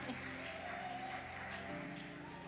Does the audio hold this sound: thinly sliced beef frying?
no